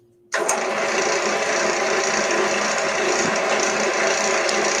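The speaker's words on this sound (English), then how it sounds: "And let's turn the tenon." A wood lathe spins up abruptly and runs steadily as a tool cuts a tenon on a vase blank, producing a dense, continuous whirring scrape that stays close and loud throughout.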